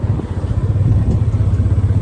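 Motorcycle engine thrums with a steady, pulsing low rumble while riding on a mountain road from Kufri in Himachal Pradesh, heard close from the bike with a passenger aboard.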